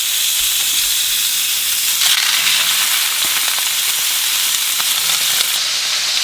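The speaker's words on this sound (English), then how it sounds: "you want to add the thighs skin down" Chicken thighs laid skin down in a hot oiled skillet, a loud, steady, close hiss of searing oil that swells briefly partway through.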